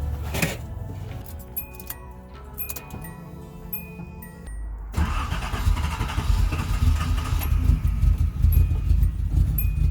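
A Datsun 280ZX engine cranks with metallic clicks and rattles, then catches and settles into a loud, steady rumbling idle, recorded up close with no talk.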